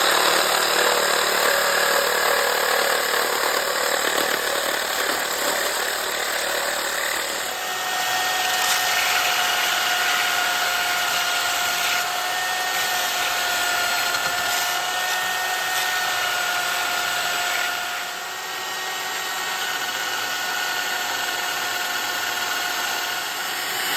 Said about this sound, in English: the last thing left to do is cut this conveyor screw